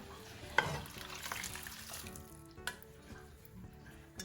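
A spoon stirs spiced rice and spinach with boiling water in a pot, giving a soft, continuous sizzling and swishing with a few scrapes and knocks against the pot, close by and without talk.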